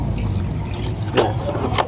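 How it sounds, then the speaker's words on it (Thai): Water poured from a container onto salt sprinkled over soil near a termite-damaged house, a steady close trickle and splash running throughout, with brief louder gushes near the end. "ให้เราทำการเทน้ำครับ นี่ เทน้ำไปแบบนี้นะครับผม"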